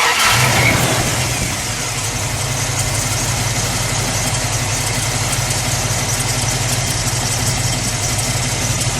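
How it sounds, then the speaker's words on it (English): A 1978 Plymouth Volare Super Coupe with a 360 V8 idling steadily after a start, a loud, close, even engine rumble with a low throb that holds constant with no talk. "then we'll let it idle, and then we'll give it a rev"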